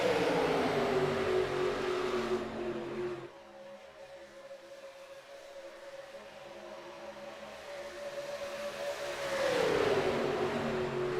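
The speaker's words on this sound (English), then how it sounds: "These cars just sound absolutely incredible at these super speedways." NASCAR Cup race car engines at Talladega superspeedway in the iRacing video game, a steady loud engine drone with pitch sweeping down, dropping quieter mid-way, then rising again as cars pass near.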